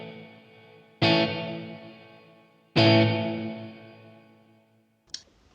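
Electric guitar played through a Line 6 POD HD500X with spring reverb turned up: two strummed chords ring out and decay into a long reverb wash, followed by a brief faint pluck at the end.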